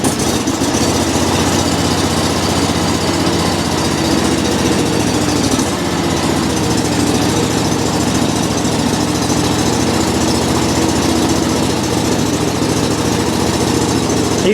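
A John Deere 345 lawn tractor engine runs on a cold day after a slow choked start, idling with a loud, steady, close mechanical drone that shifts pitch slightly partway through.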